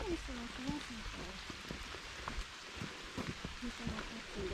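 Steady rain patters on a forest trail under a canopy of trees, a dense, even hiss of drops with faint scattered taps, no voices heard.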